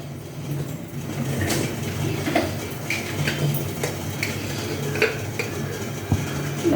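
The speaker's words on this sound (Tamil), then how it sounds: "எலுமிச்சம்பழ சேவைக்கு தாளித்து கொட்ட போகிறேன்." Tempering spices for lemon sevai sizzle steadily in a pan while a utensil scrapes and clinks against the metal in occasional strokes, close and moderately loud, with no talking.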